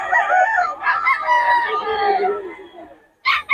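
Fighting cocks crow loudly and close by in long strained calls that overlap one another, then a brief pause and another sharp crow at the end.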